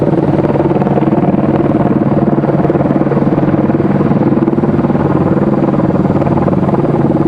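A helicopter hovering near Raleigh-Durham International Airport, a loud, steady rotor thrum with a pulsing low drone that holds constant and unbroken, with no voices.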